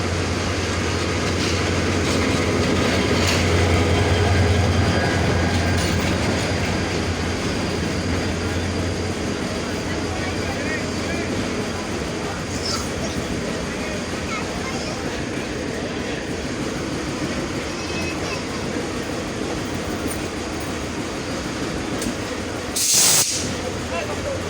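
The Dolanchapa Express intercity train, hauled by long-hood locomotive 2907, rumbles at Dinajpur railway station, a loud continuous rolling roar with a short hiss of air near the end while a voice talks over it.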